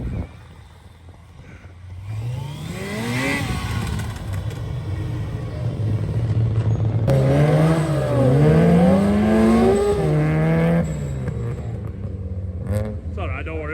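A gymkhana car revs hard with rising and falling engine pitch, its tyres burning as the loud engine swells and sustains, with people talking over it.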